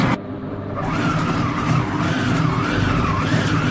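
A Compact Cook Elite food processor whirs steadily at speed 6 without heating, a loud, close, continuous motor drone with a wavering pitch throughout, and no voices.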